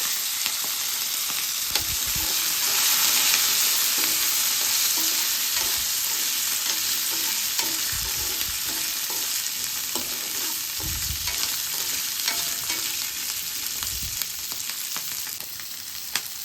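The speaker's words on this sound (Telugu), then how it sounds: "ధనియాలు జీలకర్ర వేగిన తర్వాత మనం మధ్యకి కట్ చేసుకున్న పచ్చిమిరపకాయలు వేసుకోవాలి" Slit green chillies fry in hot oil with coriander seeds and cumin, a continuous close sizzle with periodic low thumps and scrapes of stirring. No one speaks.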